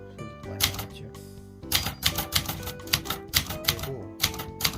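Typing on a manual typewriter, a Clover 707DLX, Clover 747TF or Brother YoungElite: sharp, close mechanical keystrikes land in quick irregular runs with a brief pause, each clack crisp and fairly loud.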